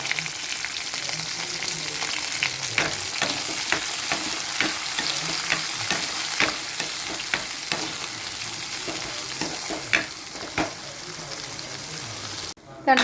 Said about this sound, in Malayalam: സാവാള പച്ചമുളക് കറിവേപ്പില ഇത്രയും കൂടി ഒന്ന് ഇട്ട് കൊടുത്ത് നല്ലതുപോലെ ഒന്ന് വഴന്ന് വരട്ടെ